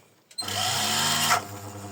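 Electric motor on a homemade cable stripper spins up abruptly and holds a loud, steady whirring drone for about a second, then its pitch sags as the load comes on.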